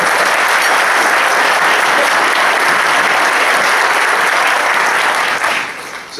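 Loud, dense applause from a breakfast-event audience, many hands clapping in a sustained roar that tapers off near the end.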